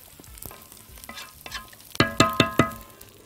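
A spoon scrapes and clanks against a pot of rice with vermicelli over high heat several times in quick succession, with a light sizzle of food cooking underneath.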